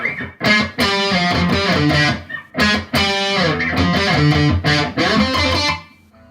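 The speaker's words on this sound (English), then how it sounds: "So let me put some distortion on it." A loud distorted electric guitar plays chords in bursts with short pauses between, gritty and saturated, with no talking.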